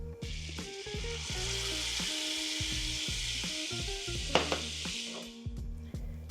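Vegan butter sizzles steadily in a soup pot, a dense frying hiss held for several seconds, with a spoon scraping and knocking against the pot in uneven strokes and a couple of sharper clacks near the end.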